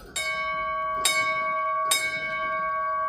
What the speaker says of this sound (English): Ringing the bell into my chemotherapy.